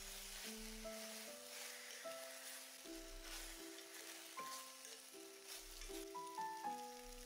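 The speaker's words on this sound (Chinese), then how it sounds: "全程开大火翻炒" Hand-torn cabbage stir-fried over high heat in a wok, a steady broadband sizzle throughout with soft background music playing underneath, no speech.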